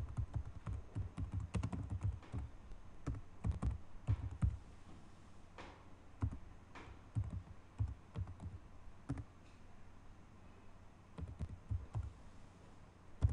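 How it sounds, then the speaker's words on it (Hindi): Keystrokes on a computer keyboard while entering text at an MS-DOS command prompt, a steady run of soft, close clicks in uneven bursts with brief pauses, no talking. "अभी यहाँ पे हम कुछ भी टाइप कर सकते हैं।"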